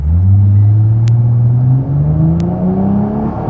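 A car launches hard from a standstill on 87/93 octane test fuel, engine climbing steadily in pitch through a long pull with brief wheel slip at the start, loud and close with no talk.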